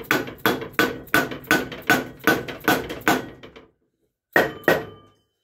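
Sharp, evenly spaced metal taps seat bearings into the spindle of a Case Ingersoll RM model mower deck, with about ten close, ringing strikes, a pause, then two more.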